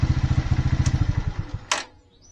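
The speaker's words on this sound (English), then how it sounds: "we'll let it run a little longer just to make sure it's not overheating anymore" A Lifan King motorcycle engine idles close by with a quick, steady thumping beat, then cuts out, followed by a sharp clack and near silence.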